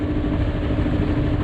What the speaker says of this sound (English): Just letting the engine warm up